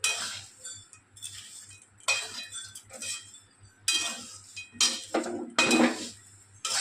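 Spiced flattened rice (chire), dressed with chaat masala and amchur powder, is mixed in a bowl, with repeated clinks and scrapes of a utensil against the dish in uneven bursts.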